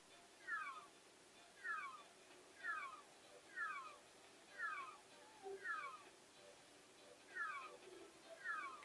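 Repeated cat-like meows from Meowth, the Pokémon, in the Nintendo 64 game Pokemon Snap, about nine evenly spaced cries over a faint game soundscape, with a few softer sounds mixed in.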